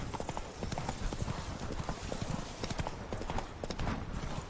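A horse's hooves clip-clop steadily in The Witcher 3: Blood and Wine, a fast, dense trotting rhythm that stays loud and continuous with constant game ambience beneath it.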